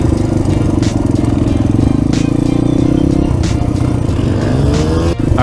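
A motorcycle engine drones steadily and loud close by at Ocotillo Wells off-road area, with a novice rider on a first ride holding a fairly even pitch that eases slightly partway through.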